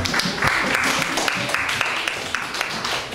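Loud, sustained applause from an audience, many hands clapping together in a thick, continuous wash.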